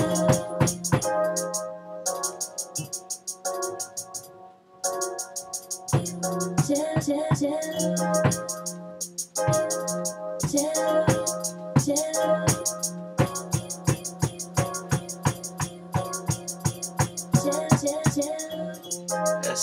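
A beat played on an Akai MPC using a chopped sample: punchy, repeating drum hits and stuttering sample chops in a steady rhythm, loud and continuous with brief gaps between phrases and no talking.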